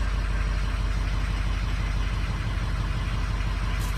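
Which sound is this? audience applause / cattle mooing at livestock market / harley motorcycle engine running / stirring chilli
harley motorcycle engine running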